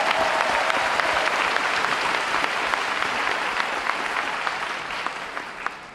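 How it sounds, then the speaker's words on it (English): An audience at a school district convocation gives a round of applause, a dense, sustained wash of clapping that holds steady for several seconds with a few sharper individual claps near the end. "Let's give them another round of applause"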